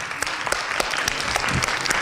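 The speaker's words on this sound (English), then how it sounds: "I think we need another applause for the whole team." A live audience claps for a fashion show team, dense steady applause with sharp individual claps throughout, close and loud with no talk over it.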